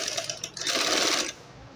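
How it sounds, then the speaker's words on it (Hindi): A sewing machine runs in a short loud burst stitching a half-inch seam on a four-panel shalwar, whirring steadily for about a second before stopping. "अब आधे इंच की सिलाई चला देंगे उल्टी तरफ।"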